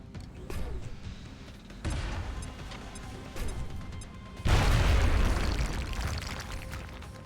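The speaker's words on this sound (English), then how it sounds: "I can grenade you two." A grenade explodes in the video game XCOM: Enemy Within, with a sudden loud crashing boom that gives way to a sustained rumbling roar after earlier thuds and impacts.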